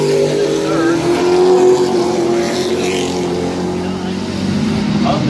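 Late model race cars roar around Midvale Speedway with a loud, sustained engine drone that shifts in pitch as they race, with an announcer talking over it.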